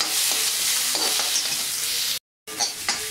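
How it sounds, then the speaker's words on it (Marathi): Onion roasts in a kadhai with a steady, bright sizzle and occasional stirring scrapes, broken by a short silent gap before the frying resumes. "गुलाबी कांदा भाजून घ्यावा"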